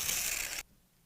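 A sheet of paper is torn, a short bright ripping burst lasting about half a second that cuts off abruptly into quiet.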